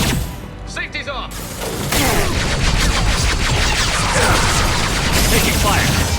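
Mass Effect 2 gunfire breaks out as a sustained, dense volley of loud rapid shots. A few clicks and a short bit of speech come first, and the shooting continues without pause to the end.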